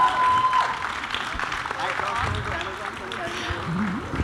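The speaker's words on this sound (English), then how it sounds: "Let's hear a huge round of applause for them." Applause from an audience at a film launch event, a steady wash of clapping that runs the whole time, mixed with crowd noise and talk.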